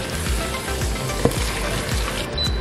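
Chicken fries in masala in a pan on a stove over medium flame, with a steady close sizzle and soft rhythmic stirring scrapes throughout.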